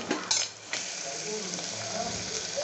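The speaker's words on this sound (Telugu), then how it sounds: "వేగిన తర్వాత ఇప్పుడు చికెన్ వేసేసుకుంటున్నా." Chicken pieces added to a hot pan for chicken pulusu, sizzling and frying steadily with a few clinks and stirring scrapes at the start.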